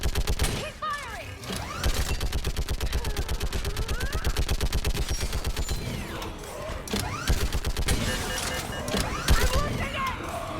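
Sustained rapid gunfire in the Mass Effect 3 video game, a steady stream of loud automatic bursts running almost the whole time, with mechanical clanks, swelling background sounds and shouted voices mixed in.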